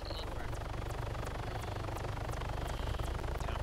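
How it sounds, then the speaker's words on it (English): Helicopter engine in the Arma 3 video game drones steadily throughout, a continuous low rotor thrum with a faint whine above, fairly close and constant in level. "Helicopter. Setting up to the right."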